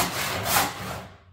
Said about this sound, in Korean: 처음에 힘이 넘쳐가지고 이 톱질을 굉장히 빠르게 합니다.